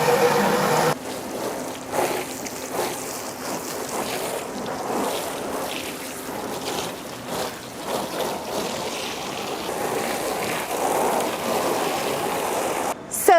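Water pours steadily into a tank sprayer for its final rinse, a continuous rushing, splashing flow that stays fairly even throughout, with a brief clunk near the start and a sharp knock at the end.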